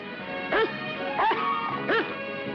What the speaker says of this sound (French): Elle a juste aboyé.